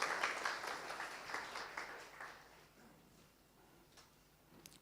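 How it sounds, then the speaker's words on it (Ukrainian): Audience applause at a national forum in a hall, loud and dense at first and then thinning to scattered claps before fading out. "Під ваші оплески."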